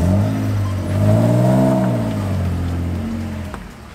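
A drift car with a welded differential accelerates, its engine note climbing loud and close, then easing and holding a steady drone as it pulls away.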